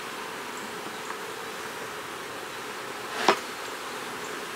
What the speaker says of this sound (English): there's a decent amount of bee coverage on this colony here